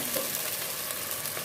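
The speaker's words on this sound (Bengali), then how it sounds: "পেঁয়াজ ভাজা ভাজা হয়ে আসছে" Onion with ginger-garlic paste sizzling in a pan for egg korma, a steady close crackling fry with a faint stirring scrape and no talk.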